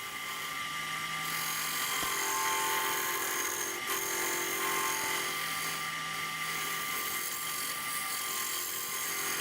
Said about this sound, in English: Just using that hollowing scraper